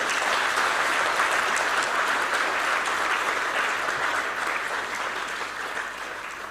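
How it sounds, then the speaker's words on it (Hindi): Loud, sustained applause from an audience at a volunteer engagement event in India, dense continuous clapping that fades gently over the final seconds. "उनके लिए तो जोरदार तालियां बजा दो"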